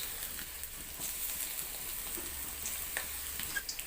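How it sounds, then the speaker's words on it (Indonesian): Tempeh frying in hot cooking oil, a steady close sizzle and crackle with occasional small pops, heard alone without talk. "Masukkan tempe, goreng hingga tempe kuning keemasan."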